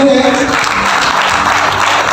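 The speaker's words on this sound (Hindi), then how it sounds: "तो जीवन दान के लिए जोरदार तालियां दें।" Loud, continuous applause from an audience at a business plan presentation, with a brief tonal sound at the start and dense clapping for the whole two seconds.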